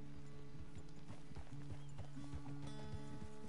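A horse's hooves clip-clop in a steady walking rhythm in Red Dead Redemption 2, close and distinct over a low tonal game soundtrack.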